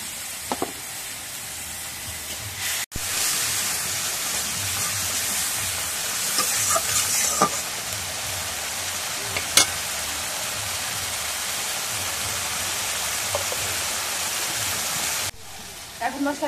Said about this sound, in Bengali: এখন মশলাটি কষানো হয়ে গেছে